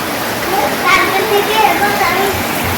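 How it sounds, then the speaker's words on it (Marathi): Heavy rain falls outside as a loud, steady wash of noise while children's voices and speech carry over it. "जसं तुम्ही बघू शकता बाहेर खूप पाऊस पडतो."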